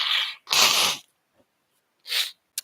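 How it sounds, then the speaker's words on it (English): Two loud sneezes burst out close by, each a sharp explosive blast, the first preceded by a short intake, followed after a pause by a third sneeze-like burst and a brief sniff at the end. "Sorry, gotta sneeze again"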